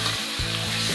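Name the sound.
chicken pieces frying in a pan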